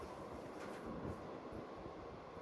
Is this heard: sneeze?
no